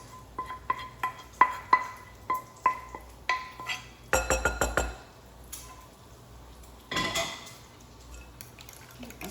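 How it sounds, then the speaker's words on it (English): Peppers and onions stirred into an egg mixture in a bowl for a copycat Cracker Barrel meatloaf, with a run of sharp utensil clinks against the bowl, then a louder burst of scraping and clattering, and a later softer stir. "So we'll mix that into the egg mix"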